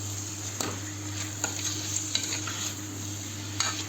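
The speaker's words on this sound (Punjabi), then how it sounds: "ਆਲੂ ਤੇ ਮਟਰ ਇਹ ਆਪਾਂ ਐਡ ਕਰ ਦੇਣੇ ਇਹਨੂੰ ਐਦਾਂ ਹੀ ਮਸਾਲੇ ਦੇ ਵਿੱਚ ਇਹਨਾਂ ਨੂੰ ਭੁੰਨਾਂਗੇ" Potatoes and peas frying in masala in a pan, a steady close sizzle with periodic spoon scrapes every second or so as they are stirred, over a low hum with no voices.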